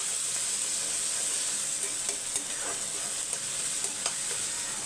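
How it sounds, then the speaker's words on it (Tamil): Onions sauté in a pan with a steady, close sizzle and hiss, dotted with a few soft clicks of stirring. "வெங்காயம் வதங்கட்டும்"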